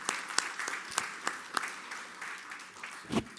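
An audience in a ceremony hall claps, a fairly distant, steady patter of many hands with sharper individual claps standing out, continuing throughout without speech.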